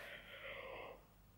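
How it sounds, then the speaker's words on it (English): A person yawns just after waking up: one long, breathy, drawn-out exhale that tapers off over about a second, heard close and alone. "I'm just yawning just to like wake up"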